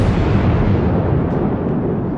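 Naval gunfire from a warship in the World of Warships video game: a sustained, loud low rumble of a big-gun salvo that rolls on without a sharp separate attack and fades slightly toward the end.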